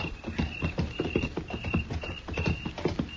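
In a Gunsmoke radio western drama, horses' hooves clip-clop steadily as riders move along. The rhythmic beat stays close and fairly loud, with no talking.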